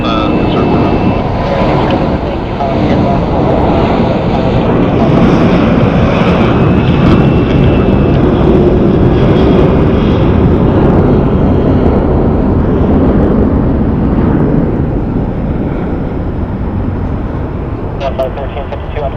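A Southwest airliner departing Phoenix Sky Harbor airport, heard as a loud, steady, broadband jet engine roar that holds for the whole stretch with little change.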